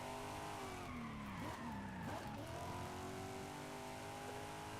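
A Corvette Stingray in Forza Horizon 5 drives with a steady engine drone, and its tires squeal and skid in sweeping pitch bends through the middle of the stretch. The car is close and even in level, with no voices.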